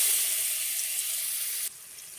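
Fish hitting hot oil in a pan: a steady bright hiss of sizzling that runs unbroken, then drops suddenly to a quieter fizz near the end, with no voices.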